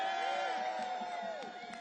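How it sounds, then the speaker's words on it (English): A crowd at a Capitol Hill labor rally cheers and whoops, a steady mass of voices with scattered shouts rising over it. "Give them a round of applause."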